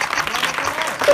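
Brief burst of audience applause at a Chhattisgarhi comedy election-campaign show, loud and dense, with a voice or tone rising near the end.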